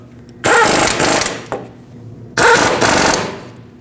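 Impact wrench tightening brake caliper mounting bolts on a Dodge Ram 1500, two loud rattling bursts about a second each, separated by a short pause, close up.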